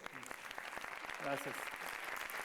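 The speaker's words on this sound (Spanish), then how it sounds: "Recibámoslo con un fuerte aplauso" Audience applause welcoming a speaker at the ACTÚA 2018 event, a fairly quiet, steady patter of clapping with a voice briefly speaking over it.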